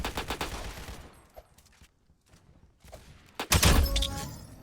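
AK-103 rifle fired in the video game Aimblox: quick bursts of sharp gunshots, a pause with scattered faint hits, then a louder burst with impacts near the end.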